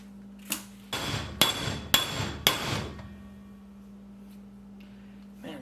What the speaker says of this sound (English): It's not coming out. I need a heavier hammer.